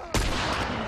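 A single loud gunshot from The Last of Us, fired at zombies, bursts in sharply and its boom rings on for most of the moment.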